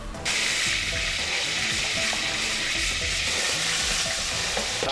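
Beef mince, 500 grams in 50 ml of oil, fries in a pan with a loud, constant hissing sizzle and faint stirring clicks underneath, heard up close without talk.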